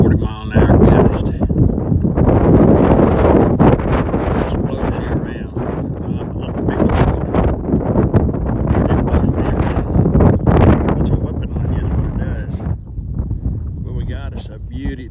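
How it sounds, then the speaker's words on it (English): Strong gusts of 35 to 40 mph buffet an outdoor microphone, producing loud, continuous rumbling wind noise that surges and dips throughout, with a voice speaking intermittently beneath it. "35, 40 mile an hour gust."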